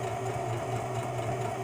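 A sewing machine stitching at a steady pace, its motor giving a continuous even whir with a faint rhythmic mechanical pulse, close and moderately quiet.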